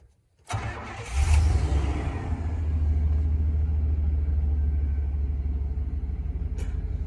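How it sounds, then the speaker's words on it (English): A short click, then the starter of a 1996 Chevy K1500 pickup truck cranks briefly and the engine catches, settling into a loud, steady low idle rumble close by. "This truck has always had a funny sounding starter"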